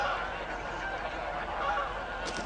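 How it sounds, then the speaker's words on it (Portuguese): A flock of migratory geese honking on open water in winter, a dense, continuous chorus of overlapping calls held at steady loudness throughout. "Estas aves migratórias viajaram por milhares de quilômetros para escapar do frio."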